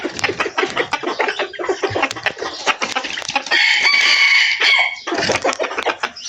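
A rooster crows loudly nearby, one long drawn-out call rising and falling, surrounded by busy clucking and chatter from other chickens.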